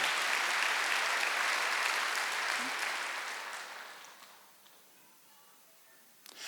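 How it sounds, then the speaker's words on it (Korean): A church congregation at a Wednesday worship service applauds in a dense, steady wash of clapping that gradually thins and fades out to near silence. "빨리 박수하세요."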